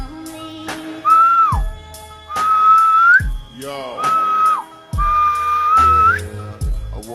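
A person whistles a short poem-like performance in clear, loud phrases of sustained tones with sliding pitch bends, separated by brief pauses and a few chirps.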